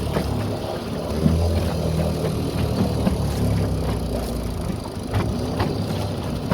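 A 3 horsepower Evinrude outboard motor running on choke after decades unused, a rough steady mechanical drone with uneven pulsing knocks, fairly close and continuous with no talk.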